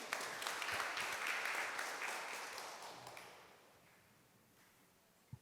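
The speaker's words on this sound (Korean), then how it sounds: "큰 박수로 환영해 주십시오" Audience at a community conference in Gyeonggi claps to welcome a panel speaker, a lively burst of applause that gradually thins and fades away, leaving near quiet with a couple of faint knocks at the end.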